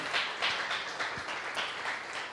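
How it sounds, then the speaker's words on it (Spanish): Church congregation clapping steadily through a worship service, a dense continuous patter of many hands held at an even level for the whole stretch. "Dale un aplauso al Señor, Él es digno de alabanza."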